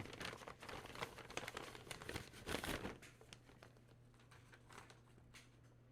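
Paper crinkles and tears as a flat envelope is opened during an unboxing, a close, crackling rustle that peaks in a sharper rip then fades to faint scattered handling.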